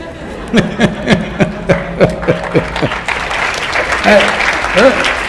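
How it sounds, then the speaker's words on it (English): An audience claps in a steady rhythmic beat, which loosens into a sustained round of applause, with voices and laughter mixed in. "You're clapping at my failures."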